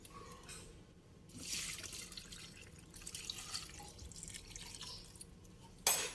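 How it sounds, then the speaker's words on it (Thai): Pickling brine is poured over green chilies, a faint, close liquid splashing that comes in a few soft bursts, with a brief louder splash near the end. "แล้วก็เทน้ำดองลงไปได้เลยค่ะ"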